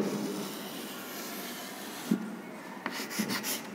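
Pen or marker scratching steadily across a surface while a zone near an airfoil is sketched in a fluid kinematics lesson, a continuous close rubbing rasp followed by a few short taps and strokes.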